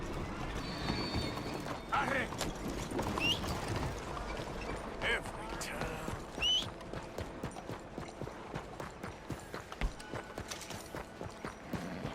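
Horse hooves clip-clopping in the video game Red Dead Redemption 2, a steady rhythmic trot with a couple of whinnies and faint mechanical clicks, voices murmuring in the background.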